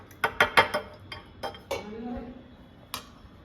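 A small spoon clinking against a jar while turmeric pickle is spooned in: a quick cluster of bright metallic clinks, a few more taps with a low scraping rub, then one last isolated clink.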